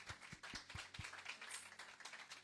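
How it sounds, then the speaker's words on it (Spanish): Church audience applause, quiet scattered clapping with a few distinct low claps standing out in the first second, faint and continuous over a couple of seconds. "Vamos a darle un aplauso"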